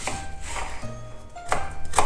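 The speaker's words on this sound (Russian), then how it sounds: "Лук нарезаю мелко." Knife finely chopping a large onion on a board, a few sharp taps spaced apart with quiet gaps between, close and clear.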